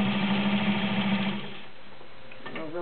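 A vintage heavy-duty White Model 130 sewing machine runs loud and steady, stitching through five layers of woven upholstery with rubber backing, then slows and stops toward the end.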